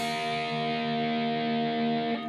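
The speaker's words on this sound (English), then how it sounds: "in an upward motion we're going to pick our bottom 3 strings open" A guitar's bottom three open strings picked together with an upstroke and left ringing, a bright, slightly gritty sustained chord with a fresh pluck near the end.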